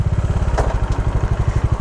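A motorcycle engine chugging in a fast, even pulsing rhythm close by, idling and beginning to pull away, with a brief clatter partway through.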